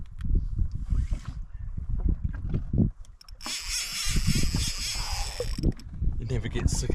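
A fishing reel ratchets steadily, winding in line aboard a Sea-Doo 30 miles offshore in winter off New Zealand, with a clicking mechanical whir over water and engine noise.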